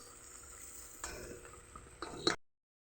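A cooking pot of chicken tinola is stirred with soft scrapes and light clinks over a faint simmer, a couple of sharper knocks near the end before the sound cuts off.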